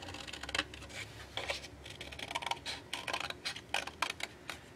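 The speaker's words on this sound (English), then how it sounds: "So just take some scissors and cut that away." Scissors snip away a paper flap on a Christmas scrapbook page: a quiet, close run of short, crisp cuts in irregular bursts against a faint background.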